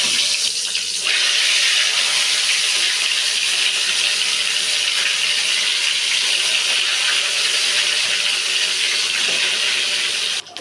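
Eggplant pieces frying in hot oil in a wok, a loud, steady, dense hiss that holds from start to end with little change.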